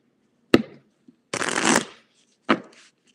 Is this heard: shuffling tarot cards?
yes